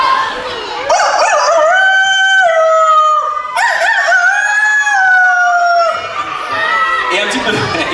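A ventriloquist imitates a rooster's crow with his voice, producing a long, warbling cock-a-doodle-doo that rises and stretches out in loud, close bursts, repeated across several seconds.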